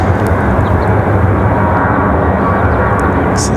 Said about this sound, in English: So there goes that ATR.